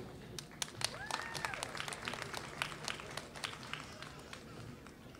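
Applause at a university graduation ceremony for bachelor's degree students: steady, fairly faint clapping from a hall audience with sharp individual claps, while voices talk softly underneath.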